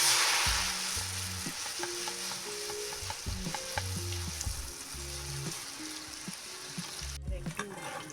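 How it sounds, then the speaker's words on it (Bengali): Batter-coated snacks fry in hot oil in a pan, giving a steady close sizzle with occasional crackles while music plays quietly underneath. "উল্টে পাল্টে ভালো করে লাল মুচমুচে করে ভেজে নিতে হবে।"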